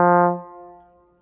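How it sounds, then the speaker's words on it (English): A single sustained trombone note with a soft, smooth onset, rich in harmonics, held briefly and then fading away alone. "a legato has a da tongue, kind of sounds like this"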